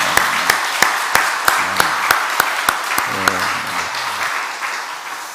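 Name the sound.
congregation applause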